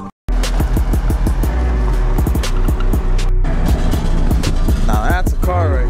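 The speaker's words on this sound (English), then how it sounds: "Now that's a car right there." A car passes close by outdoors, a loud steady engine roar holding for several seconds with a brief dip partway through.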